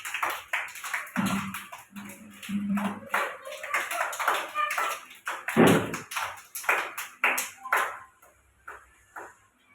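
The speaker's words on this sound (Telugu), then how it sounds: "కొట్టాలి క్లాప్స్" Young anganwadi children clap in scattered, irregular bursts at close range, mixed with an adult speaking over them and a few brief vocal sounds.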